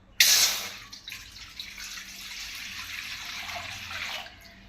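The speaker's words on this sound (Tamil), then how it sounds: "பாத்திரத்தில் 1 செம்பு தண்ணி ஊற்றிடுங்க." Water pours from a vessel into a cooking pot set on a stove, a bright splashing gush that starts abruptly, then settles into a steady, close running stream for about four seconds before stopping; no voices.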